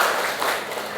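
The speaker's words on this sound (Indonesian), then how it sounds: "Tepuk tangan dulu buat Aziz" An audience applauds for Aziz at a university teaching session, with a brief, dense burst of clapping from many hands.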